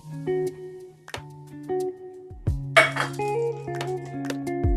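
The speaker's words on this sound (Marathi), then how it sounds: "तू कांदा हलवत राहा" Onions frying in oil are stirred in a pan at home, the utensil striking the metal in sharp, ringing clinks and taps spread irregularly through the stretch, close and fairly loud.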